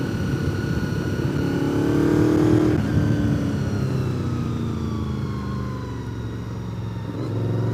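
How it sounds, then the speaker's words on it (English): A 25-year-old Honda VFR 800 sport bike on a ride: a steady, loud engine drone with rising and falling revs, strong wind rush over it, and a brief shift in tone near the middle. No one speaks. "riding this VFR 800 that I'm on right now"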